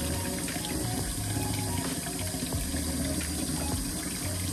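Steady, close rush of water running from a kitchen tap into a sink while meat is washed, continuous and fairly loud with no talking.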